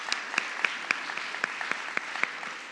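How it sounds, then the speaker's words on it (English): An audience at a Jewish Family Services annual meeting breaks into brisk, continuous applause, with many hands clapping together in a fairly loud, evenly sustained wash of sound. "One more clap. I know, lots of clapping here."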